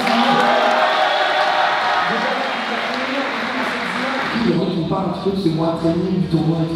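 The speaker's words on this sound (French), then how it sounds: "applaudissements pour Gotaga" A crowd applauds and cheers for Gotaga at the ZLAN 2022 gaming tournament. The loud, steady wall of clapping fades as voices and talk rise over it.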